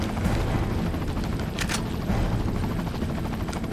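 In Resident Evil 4, a helicopter's loud, constant rotor roar fills the air, with a short sharp burst of missile fire near the middle.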